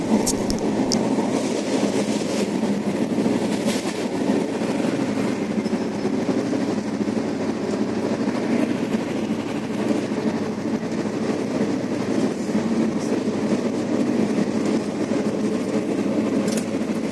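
A train rumbles along the rails with a steady, continuous roar and faint clattering, loud and close throughout.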